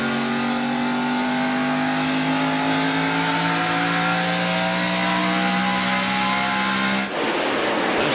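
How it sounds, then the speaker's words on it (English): A Ford stock car on a racetrack during a 1998 NASCAR race holds a loud, steady high-revving engine drone at full throttle, its pitch climbing slightly before cutting off abruptly near the end. "Listening to Jeff Burton on the throttle of his track gear Ford."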